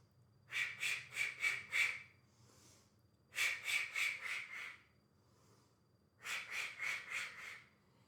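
Three bursts of quick, rhythmic panting breaths during an indoor cardio workout, each a run of four or five sharp puffs, close and fairly quiet, separated by short pauses.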